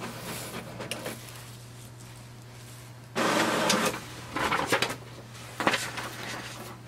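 An HP Deskjet 2633 all-in-one printer runs with a steady low motor hum, broken by several loud mechanical bursts of paper feeding and carriage movement, heard up close with no talk.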